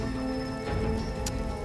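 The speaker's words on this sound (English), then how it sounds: "How are they not wet? It's raining." In the fantasy role-playing video game Divinity: Original Sin 2, rain falls with a steady, even patter under a low tonal hum, and a single brief tick is heard near the end.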